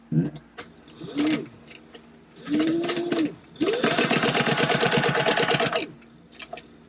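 Sewing machine stitching fabric panels for a walkman-style fanny pack, several close bursts of rapid motor whirring and needle clatter, the last one longest, with a voice speaking in the pauses.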